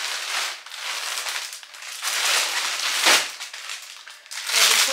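A baby-clothes order package is torn open by hand, giving loud, close bursts of plastic crinkling and rustling in waves over several seconds, with no speech.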